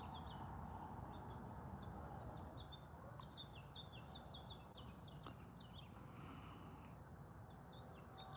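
Small birds chirp repeatedly in short, high bursts over a steady low rumble of background noise, fairly distant and faint.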